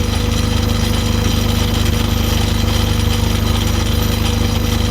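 A Myford ML7 lathe runs steadily while screwcutting a 12 TPI thread, giving a loud, continuous mechanical drone with a fast, even rattle and a constant hum, and no talking.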